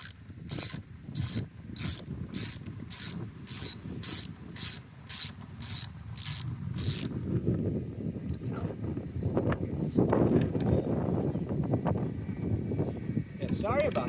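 Wind buffets a microphone outdoors during zero turn mower maintenance, a continuous low rumbling roar that swells and fades throughout. Rapid ratcheting clicks from a socket wrench come first, and the wind grows stronger afterward.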